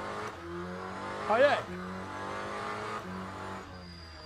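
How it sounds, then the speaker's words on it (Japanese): A Lamborghini hypercar in a racing simulator game on PS5 hums as its engine fires up, then gives a brief sharp rev before settling into a steady drone, with someone speaking over it. "途中からエンジンかかる"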